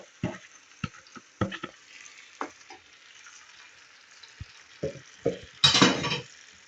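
A spoon stirs fried onions with freshly added tomatoes in a pan for manti, scraping and clinking in scattered strokes, ending in a louder burst of sizzling near the end.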